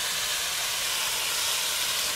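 Food sautéing in a pan over high heat gives a steady, loud, unbroken hiss of sizzling steam that holds throughout.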